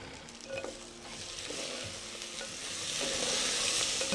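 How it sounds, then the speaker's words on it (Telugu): Tomatoes tipped into a pan of urad dal frying in oil, giving a soft, steady sizzle and stirring that swells slightly louder toward the end, with no talking. "మినప్పప్పు ఇలా కొంచెం గోల్డెన్ కలర్ రాగానే దీంట్లో టమాటాలు వేసేస్తా"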